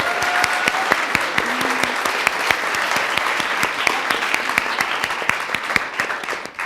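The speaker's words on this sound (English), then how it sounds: "I want everyone to give yourselves a round of applause" Audience applause fills a conference hall at an opening session of a lobby weekend, steady dense clapping from a crowd lasting throughout, loud and sustained without speech.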